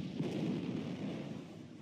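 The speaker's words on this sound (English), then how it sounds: "I'm going to throw this batarang and spark this gas" A rolling, rumbling burst of gas ignited by a thrown batarang in the Batman Begins video game, a low, dull whoosh that swells and then fades. It is fairly faint and heard alone, with no talk.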